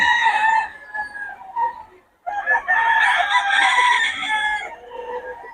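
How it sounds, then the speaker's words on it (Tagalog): Chickens cluck and squawk loudly up close in a busy, overlapping flurry, with a brief pause before the noise swells again. "Ulit yung mga manok ni boss ngayon."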